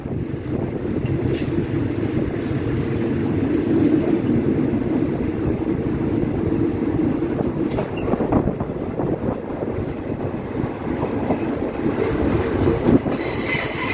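A passenger train rumbles steadily through Ban Kluai railway station in Thailand, with a constant low roar of wheels and carriages and occasional faint squeals, no voices.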